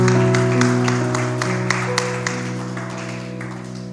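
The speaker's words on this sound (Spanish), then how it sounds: "Vamos a darle unas palmas fuertes al Señor." A church congregation claps during worship, a run of fairly even claps over sustained organ or keyboard chords that slowly fade.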